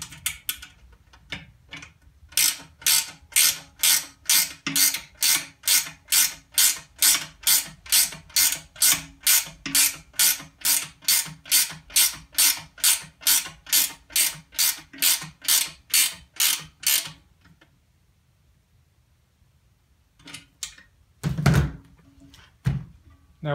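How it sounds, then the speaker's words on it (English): Socket wrench ratcheting to tighten a nylon lock nut on a photo booth pivoter, a long run of about thirty evenly spaced clicking strokes, close, followed by quiet and a couple of handling knocks. "I'm going to use the socket this time to speed up the video."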